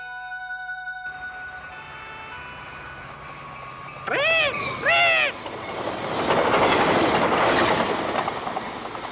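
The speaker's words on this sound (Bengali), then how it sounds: "ইস, ট্রেন আইতাছে, আমাকে দেরি হইয়া যাইব।" A cartoon train whistles twice with bright, clear blasts, then rumbles past with rising broadband clatter that swells and holds near the end.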